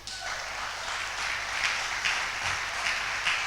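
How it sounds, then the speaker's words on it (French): A church congregation applauds during a sermon, a steady mass of clapping with occasional louder individual claps, sustained evenly for several seconds with no speech over it. "Quelqu'un peut applaudir pour maman."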